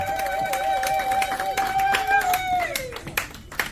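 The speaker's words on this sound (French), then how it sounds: "Applaudissez, applaudissez s'il vous plaît, applaudissez très très fort." Guests clap at a 40th birthday party, with scattered claps and crowd noise running under a steady sustained tone and background voices.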